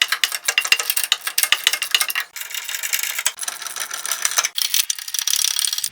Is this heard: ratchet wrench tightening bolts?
yes